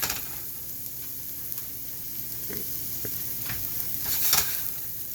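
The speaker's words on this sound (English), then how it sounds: "Don't want to overcook the vegetables, just sweat them nicely." Vegetables for a veggie omelet sweating in a pan, a soft continuous sizzle with scattered clicks and scrapes of stirring, a brief louder clatter near the end, no speech.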